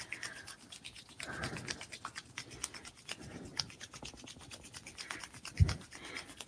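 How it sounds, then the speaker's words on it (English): Palms rubbed briskly back and forth together to warm the hands during a qigong routine, a close rhythmic swishing friction that repeats steadily, no talking. "Back and forth, rubbing it back and forth together."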